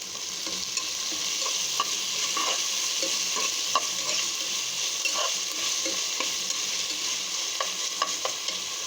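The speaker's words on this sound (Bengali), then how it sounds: "তেল দিয়ে পেঁয়াজ ভাজা ভাজা করে নিচ্ছি।" Onions fry in oil for a chicken curry, a steady close sizzle with frequent light stirring taps and scrapes against the pan, no speech.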